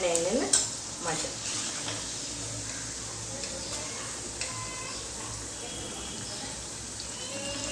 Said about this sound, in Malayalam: ബാക്കി എല്ലാ ഉള്ളിവടയും നമുക്ക് ഫ്രൈ ചെയ്തെടുക്കാം.